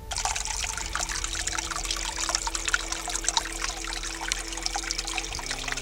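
Spring water trickles into a stream in the Guassa highlands of Menz, a continuous close babbling and dribbling with a faint low hum beneath it.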